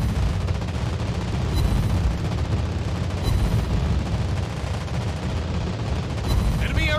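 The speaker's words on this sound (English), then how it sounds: "Enemy aircraft incoming! Anti-aircraft gun on full alert." Dense, continuous anti-aircraft gunfire from a Dutch destroyer in World of Warships Blitz, a loud rumbling barrage of rapid shots with no pauses.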